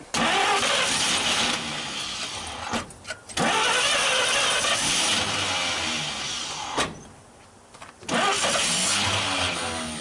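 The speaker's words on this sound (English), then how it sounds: "we're going to go ahead and see if we can get it to run a little longer" A 1939 Chevrolet Master engine, not started in 48 years, cranks and catches in repeated bursts, roaring loud and close, dropping out briefly between attempts before firing up again.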